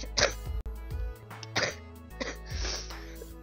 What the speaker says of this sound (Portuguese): Para de tossir, velho.